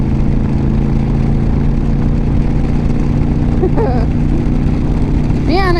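A motorcycle engine runs in a constant loud drone with a steady low hum, likely heard while riding, with brief rising whine-like sweeps near the end.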